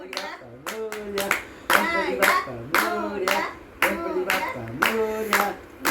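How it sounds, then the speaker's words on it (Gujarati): Children clap their hands in a steady, repeated rhythm during a devotional bhajan singalong for Ganpati at home, with sharp claps ringing under lively, excited singing and talk. "તાળી પાડો"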